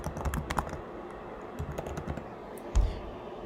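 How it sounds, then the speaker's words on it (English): Typing on a computer keyboard, a quick run of light clicking keystrokes in bursts, close and fairly quiet, with no talk over it. "We're going to type in"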